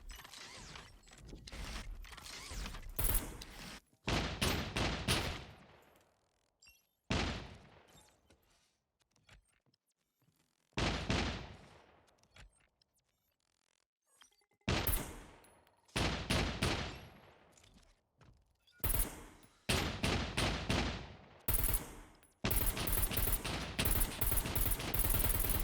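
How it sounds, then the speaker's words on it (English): Bursts of automatic gunfire from a mech firing on a building in the SCUM video game, repeated loud rapid volleys separated by short pauses, with mechanical clatter between them. "so like he's shooting the building right now."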